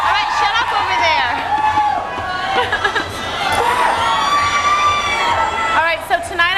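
A large concert crowd of about 1,500 people screams and cheers loudly and continuously, with shrill whoops and shouts rising and falling throughout.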